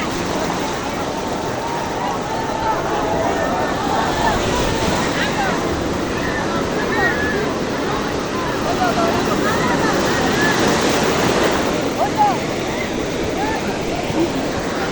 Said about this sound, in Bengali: সাগরের ঢেউ।